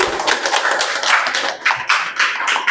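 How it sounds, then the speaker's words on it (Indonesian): A group of students claps together in a classroom for a team returning to their seats, a dense patter of hand claps that stays steady for a few seconds and then tapers off. "Boleh tepuk tangan dulu untuk kelompok 4."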